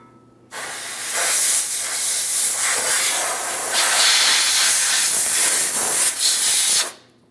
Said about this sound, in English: We're going to use some compressed air for this.